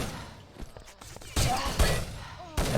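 Bursts of gunfire in the online shooter Urban Terror during a competitive nations cup match, with sharp loud volleys clustered near the end over a busy game background.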